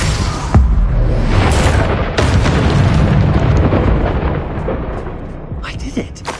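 A Confringo blasting spell bursts in Hogwarts Legacy with a loud, booming explosion and rolling rumble, followed by a second heavy blast and crackling debris as the roar slowly fades.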